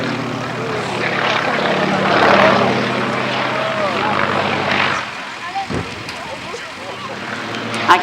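A propeller aircraft performing aerobatics at the East Kirkby Airshow, its engine droning loudly and rising and falling as it pulls up and tumbles, while a commentator talks over a PA.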